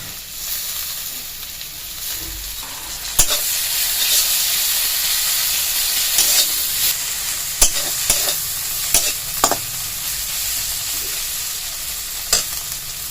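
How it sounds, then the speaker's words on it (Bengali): Dried fish sizzling in hot oil with browned onion and garlic, a steady loud frying hiss with sharp scrapes and knocks of a spatula stirring the pan. "এবার ধুয়ে রাখা শুটকি মাছগুলো দিয়ে দেব।"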